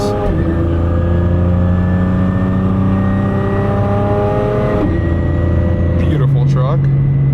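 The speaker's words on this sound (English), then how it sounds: "what we got here, a Ram freaking TRX. That thing is big body. That thing is freaking huge. God, the turbo noise." Ram TRX pickup truck, a close engine drone with strong tonal harmonics and a steady whine that drops in pitch midway, then settles lower as a voice talks over it.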